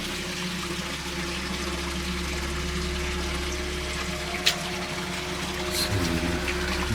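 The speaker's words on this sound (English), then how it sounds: "the water's running really quite quickly now" Rainwater rushes quickly through an underground tunnel after heavy rain, a steady broad wash with a low, constant hum underneath and one brief click midway.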